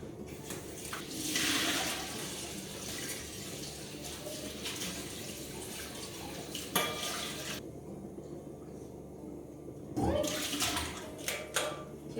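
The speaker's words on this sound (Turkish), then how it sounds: "Bunu yıkayacağım şimdi soğuk suyla güzelce." Rice being washed under a cold kitchen tap, steady running water with swells of splashing and rattling, pausing briefly before the flow resumes.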